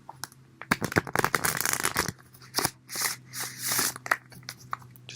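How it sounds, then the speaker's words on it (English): Tarot cards are shuffled up close in quick riffling bursts and softer sliding passes, with brief pauses between, no talking. "I'm going to give them one more last shuffle"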